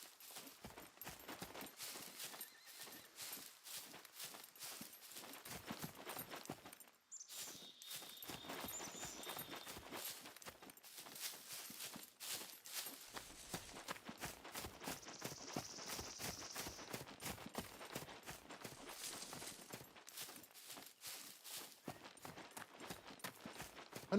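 Horse hooves clip-clop in the survival video game SCUM, a quiet, steady run of close hoofbeats with a few brief higher tones mixed in, and no talking over it.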